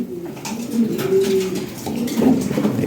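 Pigeons coo repeatedly at close range, a male and female pair about to be delivered, their low throaty calls rising and falling over soft background noise.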